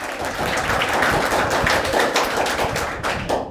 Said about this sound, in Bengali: বিক্রম মণ্ডলের জন্য জোরে একটা হাততালি হয়ে যাক